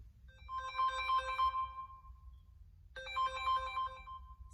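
A mobile phone ringtone plays a bright melodic chime pattern, one burst of about two seconds, a short pause, then it starts again, clear and fairly loud against a quiet room.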